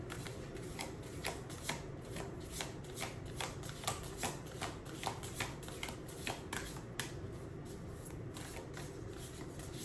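Tarot cards being shuffled by hand: a quiet, close run of regular riffling taps and slaps, repeating roughly every third of a second with soft rustle between.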